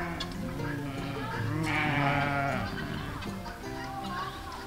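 Several sheep bleat close by, overlapping, wavering calls that swell in the middle and then trail off.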